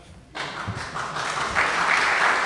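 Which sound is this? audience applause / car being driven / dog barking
audience applause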